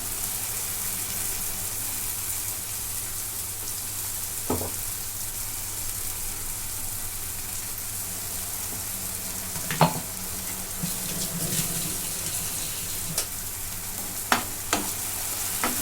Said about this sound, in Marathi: मोठ्या गॅसवरती दोन मिनटं परतून घेते